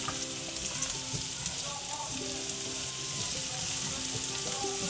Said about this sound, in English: Now I'm going to go ahead and add the onion to it while the potatoes are still cooking.